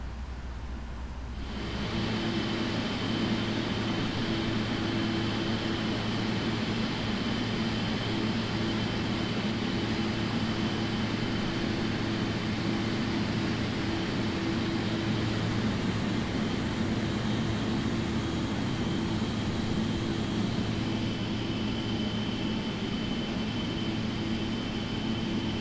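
Steady airliner engine drone with a low rumble and a high whine, continuous and fairly loud, as the jet rolls out on a short taxi toward the runway after the parking brake is released; no voices.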